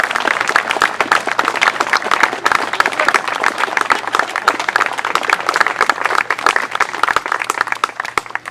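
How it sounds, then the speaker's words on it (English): A crowd at an outdoor street dedication ceremony applauds the family being honoured, with loud, dense, continuous clapping from many hands sustained throughout. "Please join me in giving a rounding applause for the family of Deacon White."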